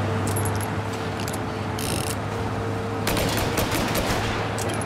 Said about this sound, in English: we're just gonna continue to shoot, pull the trigger down, and just let it rock